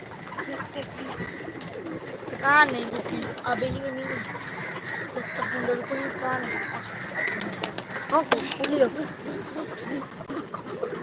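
Pigeons gathering to feed give low, rounded cooing calls in short repeated bursts, strongest early on, against a busy outdoor background with other faint bird sounds.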